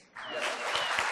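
Applause breaks out from a conference audience for a speaker who has just finished a talk, starting abruptly and holding steady as a dense wash of clapping, with faint voices underneath.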